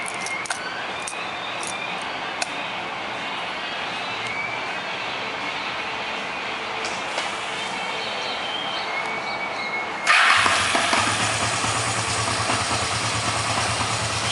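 A Kawasaki 305 motorcycle with about 11,000 miles runs at a steady, soft idle with the choke off, then rises abruptly into a louder, rougher engine sound near the end. No one speaks.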